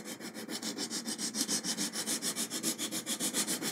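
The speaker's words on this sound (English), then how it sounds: "All I'm doing now is getting the sanding marks out." A leveling bar sands a guitar fretboard's compound radius in quick, even back-and-forth strokes, a close, rhythmic rasping of abrasive on wood repeating steadily about five times a second.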